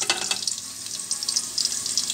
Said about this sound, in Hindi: हम ये अब फ्राई कर रहे हैं। हमने इसको ब्राउन नहीं करना, सौते करना है।